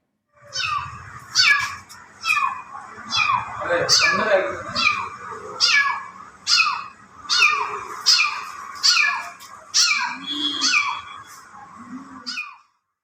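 A trapped kitten meows over and over from inside a gypsum ceiling panel at a hotel in Perinthalmanna, Malappuram, its cries loud, close and repeated in a steady series across the clip.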